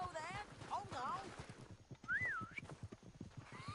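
Horse hooves clip-clopping and a horse whinnying in Red Dead Redemption 2, with an in-game voice speaking over the clopping and a rising, wavering neigh partway through.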